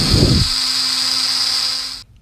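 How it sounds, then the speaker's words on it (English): A rotary tool grinds down the epoxy eyeball of a sculpted Incredible Hulk figure, a loud steady high whine that runs for about two seconds alone and then cuts off abruptly. "So I'm going to grind this down."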